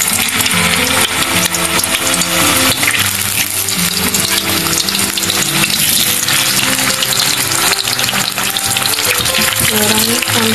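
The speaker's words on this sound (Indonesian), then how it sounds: "panaskan minyak goreng, kita goreng kentangnya" Hot oil sizzles and crackles continuously as potatoes fry, with a steady bubbling hiss and faint background music underneath.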